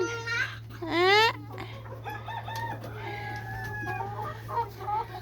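A pet chicken clucks and squawks close by in a series of sharp, rising calls, the loudest burst near the start, followed by softer scattered clucks over a constant low hum.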